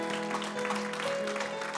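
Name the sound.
applause for Christ in church service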